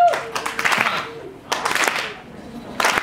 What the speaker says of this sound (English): Come on, y'all, give us a clap.